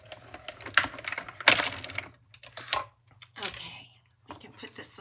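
Cardstock leaves being cut with a die, a handful of close, irregular crunching and clacking bursts separated by short pauses, with no voices.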